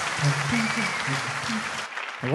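Audience clapping after a song performance at a televised singing competition grand finale, a short burst of applause running under a host's voice, with a brief dip near the end before the talking resumes.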